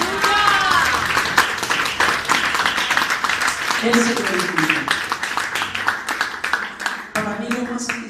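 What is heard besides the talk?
applause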